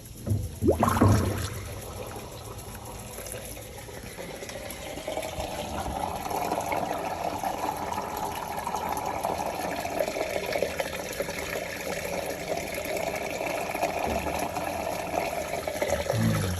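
Water rushes down an unclogged kitchen sink drain in a steady, close gurgling flow that holds for many seconds after a brief splash at the start.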